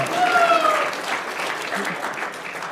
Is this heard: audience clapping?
yes